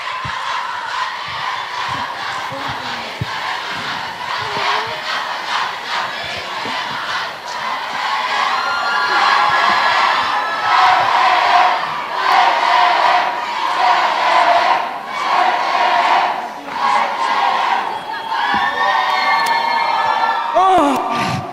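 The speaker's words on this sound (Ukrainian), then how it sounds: "Під ваші бурхливі оплески зустрічайте факультет торгівлі та маркетингу." Student crowd at a university freshman debut show applauds and cheers for a faculty team, clapping rising into loud shouts and whoops that swell midway and keep going, with voices calling out over the noise.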